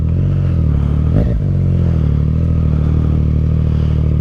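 Yamaha FZ-09 motorcycle on a test ride, its engine a steady low rumble throughout with a brief surge of revving near the start, heard up close and alone.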